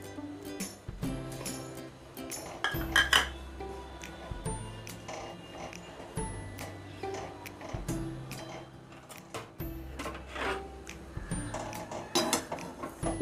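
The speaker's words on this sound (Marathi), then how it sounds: "खोबरं भाजून घ्यायचं आहे." Coconut is dry roasted in a pan, with repeated scraping and clinking of a spatula against the metal in an irregular rhythm under low background hum.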